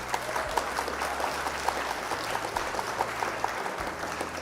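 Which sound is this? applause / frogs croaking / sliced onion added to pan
applause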